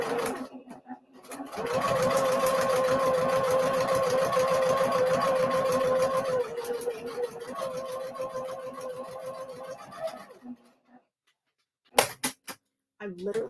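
Sewing machine stitching a paper-pieced quilt, a steady close mechanical whir running for several seconds, pausing, then resuming briefly before stopping, followed by a few clicks and handling noises.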